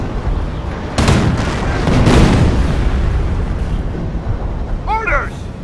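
An artillery battery fires in the strategy video game Company of Heroes, with two heavy booms close together early on that roll into a rumbling tail, and voices heard alongside.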